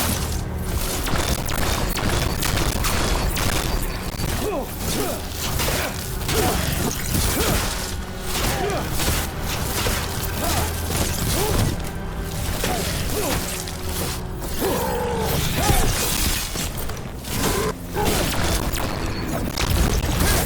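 Mortar blasts in the video game Dragon Age: The Veilguard, a dense, loud battle din of repeated booms, crashes and whooshes running without pause, with faint voices under it.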